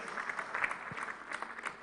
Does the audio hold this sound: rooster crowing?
no